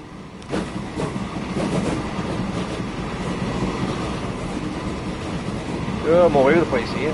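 A train runs in the PS5 console edition of the video game Transport Fever 2, a continuous rolling rail rumble with clickety-clack texture. It stays steady throughout, with a brief voice-like sound near the end.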